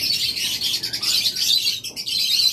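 A breeding pair of rainbow pet birds chirps with rapid, high, close tweets in a busy continuous burst.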